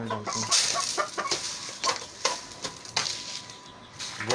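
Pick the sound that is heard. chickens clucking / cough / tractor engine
chickens clucking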